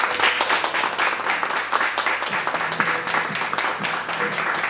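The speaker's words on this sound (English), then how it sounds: "We will cheer, we will applaud" Audience applause at a school award ceremony, a dense, steady wash of many hands clapping throughout, moderately loud and sustained without pause.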